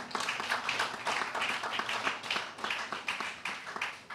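Audience applause for a writer at an Italian literary award ceremony, steady dense clapping from a crowd sustained throughout, moderately loud and fairly close, with no speech over it.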